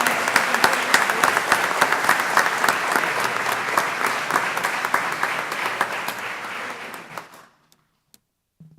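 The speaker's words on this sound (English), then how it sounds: "Another big round of applause for Palmview High School." Audience at a school board meeting gives a big round of applause for Palmview High School: dense, steady clapping from a full room that fades out near the end, followed by a brief quiet.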